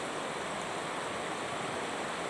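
A river running high and full beside its bank near Drumin Castle gives a steady, broadband rushing wash, continuous and fairly close, with no voices over it.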